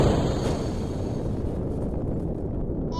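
A Kerbal Space Program rocket with 33 nuclear engines lifts off as a loud, continuous low roar, steady and dense with no breaks, tapering slightly toward the end.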